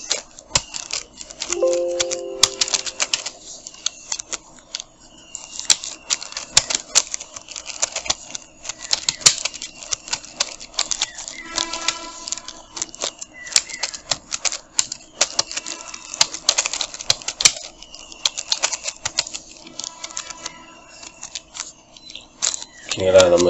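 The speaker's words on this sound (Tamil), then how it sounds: "நம்ம இந்த மாதிரி எல்லாத்தையும் டைப் பண்ணி எடுத்துக்கலாம்" Rapid keyboard typing on a computer during a Photoshop poster design session, with irregular bursts of close, crisp key clicks continuing throughout, pausing briefly at times.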